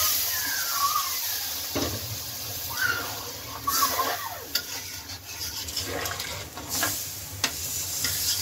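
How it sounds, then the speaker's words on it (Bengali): Water is poured into a sizzling curry, and the loud frying hiss surges with bursts of bubbling and splashing while a spoon stirs and knocks against the pot. "এখন তরকারিতে জল দিয়ে দিই।"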